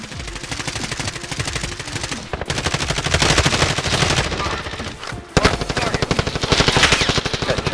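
Rapid automatic gunfire rattles in long, dense bursts during a Warzone match, loud and close, with brief pauses between the streams of shots.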